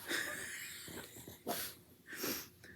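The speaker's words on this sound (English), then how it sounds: "because everyone needed to see you yawn" A pug gives a soft, breathy wheezing yawn with snorting, sniffly breaths, quiet and close, with a few faint rising squeaky tones.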